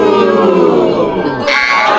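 A crowd of visitors at the Mystery Spot in Santa Cruz, California lets out a loud, sustained collective ooh of mock amazement, the many voices sliding together for about two seconds.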